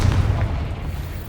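Booming spell blasts from the Bombarda and Confringo spells in the Hogwarts Legacy video game, a loud, dense low rumble that fills the short stretch with no talking.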